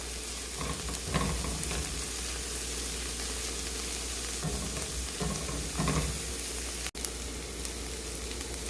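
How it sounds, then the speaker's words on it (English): Onions softening in a pan while being cooked for mussels in wine give off a steady, even sizzle, with soft scraping stir strokes now and then and no talk. "We're shooting to soften the onions, not brown them. So really just mix them around."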